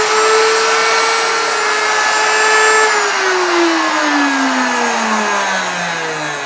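A power tool cutting wood for a monitor stand runs loud and steady, its motor whine holding level and then slowly dropping in pitch as it bogs down under load.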